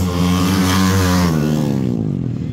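Motocross motorcycles accelerating hard on a dirt track at Gurabo in a Pre Expert class race, a loud close engine rising in pitch as it revs and then pulling away and thinning out toward the end.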